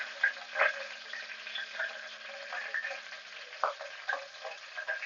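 Green chilies and curry leaves frying in oil in a pan for masale bhat, a soft continuous sizzle with occasional crackling pops and light stirring, close and fairly quiet.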